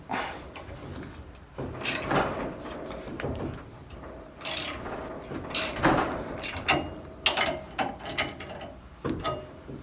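Bolts on a 57-year-old Volkswagen bus steering wheel are tightened with a ratchet, making repeated bursts of quick clicking, close and clear, with pauses between the runs of turns.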